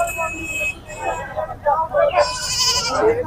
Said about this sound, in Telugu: ఒక మేకలు ఉన్నాయి.